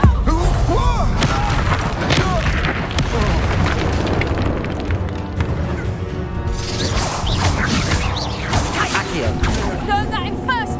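Booming blasts and crashing impacts from the Incendio fire spell in Hogwarts Legacy fill the scene loudly and continuously, with voices talking over the spellcasting and combat.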